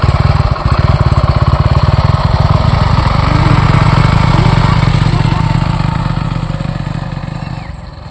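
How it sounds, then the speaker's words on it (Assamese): A heavy-duty motorbike engine runs steadily and loud up close on its first ride out to a riverbank, a throbbing low rumble that holds constant for about six seconds before easing off toward the end. "আগতে হেভি ডিউটি চলাই নাই পোৱা, আজি প্ৰথম চলাম।"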